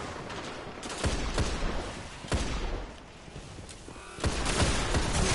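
Rapid bursts of video-game gunfire crackle and rattle in a dense, loud barrage, a few sharper shots standing out over a continuous noisy backdrop.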